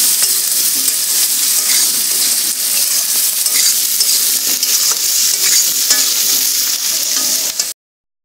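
Masala for Bengali-style Basanti polao sizzles loudly and steadily in the pan after water goes in, a dense crackling hiss that runs unbroken and then cuts off abruptly.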